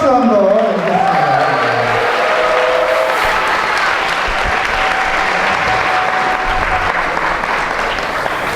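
A crowd claps loudly and steadily at an evening church revival meeting after a missionary's talk, a dense sustained roar of hands filling the hall, with a voice briefly audible at the very start.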